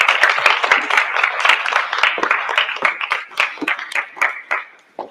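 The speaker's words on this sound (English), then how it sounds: "a big round of applause, please, for Peregrine" Audience applause for Peregrine Kitchener-Fellowes at Wey Valley Academy, a fairly small group clapping briskly at close range, the claps thinning and becoming sparser and more individual before dying away.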